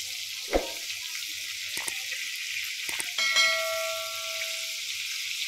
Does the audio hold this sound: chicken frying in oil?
yes